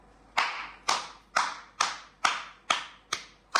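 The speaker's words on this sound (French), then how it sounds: "Je veux que nous nous tenions debout et que nous applaudissions les camarades qui ont manifesté aujourd'hui à Abidjan et en Côte d'Ivoire." Slow, evenly spaced single claps, about eight in a steady rhythm, ring out close and distinct, each with a short echo, as protesters in Côte d'Ivoire are applauded.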